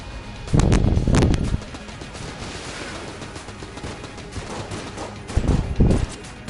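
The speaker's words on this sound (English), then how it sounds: "Triple firing AK that sets things on fire" Triple-firing AK gunfire in the Enter the Gungeon video game, two quick bursts of loud, punchy shots near the start and another pair near the end, with busy game noise between.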